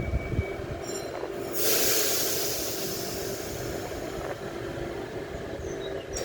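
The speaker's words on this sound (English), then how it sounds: "H46 departing platform number 2. Port Kembla service." A Port Kembla passenger service departs platform 2 at Scarborough station, with a loud, steady rumble of the train and its wheels, rising to a brief surge of hiss and roar as it pulls away.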